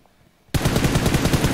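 Sustained automatic gunfire from the PUBG Mobile battle royale shooter bursts in after a quiet moment, a loud continuous rapid rattle of shots that keeps going without a break.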